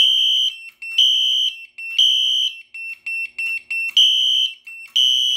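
A loud fire alarm sounds in repeating shrill electronic pulses, with a few quicker bursts in the middle, and no talking.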